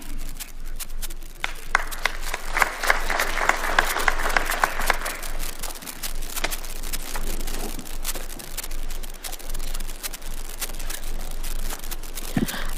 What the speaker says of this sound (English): A good hand of applause for the chairman.